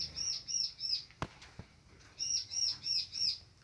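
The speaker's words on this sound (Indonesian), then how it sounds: "Di sini juga ada decu lagi." Pied bushchats in a breeding aviary, faint repeated high chirps in two short series separated by a couple of sharp clicks or taps.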